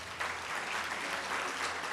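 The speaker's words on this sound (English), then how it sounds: "let's give a round of applause for our female attendees here" An audience at a social work day symposium applauds the female attendees, a dense, steady wash of many hands clapping at close range that carries on for the whole stretch without pause.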